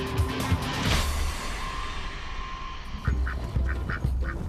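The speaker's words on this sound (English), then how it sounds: "the orphan goose, which two fishermen found alone on the shore" An orphaned pet goose, once found alone on a shoreline, gives a run of short, nasal honks close by in the last part, after a stretch of steady background noise.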